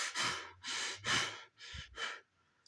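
Heavy, strained breathing demonstrated by a person: five loud, drawn-out breaths in quick succession, each a rough sighing exhale, close and alone with no speech.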